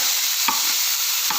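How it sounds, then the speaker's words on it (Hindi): Long beans sizzle in a hot pan as chaat masala is stirred through them, a constant close hiss broken by two brief scraping stirs. "तो अभी हम लोग इसमें चाट मसाला डालेंगे। इसे अच्छे से मिक्स कर लेते हैं।"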